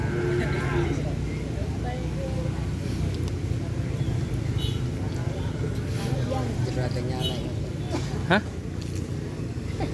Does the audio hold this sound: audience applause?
no